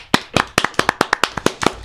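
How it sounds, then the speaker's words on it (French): A small group of friends claps for themselves, about a dozen sharp, loud, close hand claps in a fairly regular rhythm, ringing out alone with no talk. "Applaudissons-nous, tu vois."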